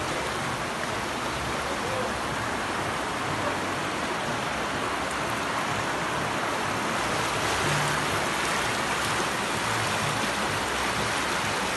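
Floodwater rushes down a flooded town street in heavy rain, a loud, dense, unbroken roar of flowing water and downpour filling the whole stretch.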